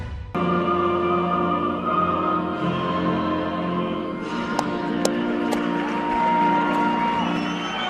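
A crowd murmurs and cheers steadily in the arena at an NCAA Division II women's college basketball regional championship game, with scattered whoops and sharp whistle-like peaks rising midway.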